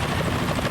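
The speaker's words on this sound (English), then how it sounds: "Is that a chopper I just heard?" Helicopter rotor noise in the stealth video game Metal Gear Solid 2: Sons of Liberty, a dense steady whir heard alone and at a constant level in a short burst.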